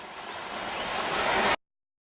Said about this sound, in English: People are playing in the waterfall pool.